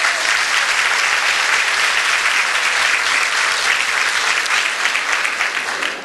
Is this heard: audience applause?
yes